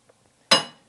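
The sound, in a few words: nail being hammered into wood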